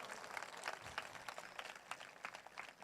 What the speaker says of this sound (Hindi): कोई जोर से ताली बजा के प्रभु को धन्यवाद दे।